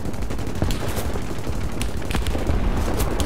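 Rear gunner of a British tier 1 dive bomber firing a machine gun in War Thunder, a dense and continuous rattle of rapid shots over engine roar, loud and without voices.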